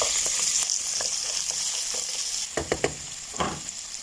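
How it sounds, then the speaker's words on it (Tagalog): Onion, garlic, black lemon and bay leaves sauté in a little oil with a steady bright sizzle, then a few quick scraping stirs clatter close by near the end. "Tapos ilagay natin itong onion, garlic, black lemon, tapos bay leaves. Pag-haluin na natin yan."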